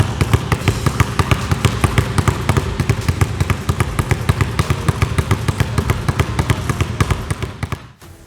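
Basketballs dribbled during a training drill, making rapid, loud, even bounces on a hard court in a steady rhythm that fades out and stops at the end.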